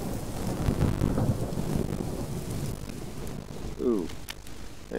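Rain pours steadily in the video game Subsistence with a low rumble of thunder rolling underneath, and a brief tonal sweep cuts in near the end.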